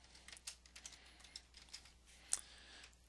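Quiet, quick typing on a computer keyboard, a run of soft close key clicks with one sharper tap near the end, faint and without voices.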